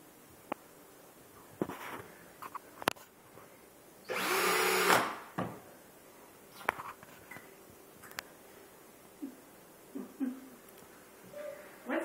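A DeWalt power drill whirs in one short burst of about a second, near and fairly loud, amid quiet household clicks and knocks.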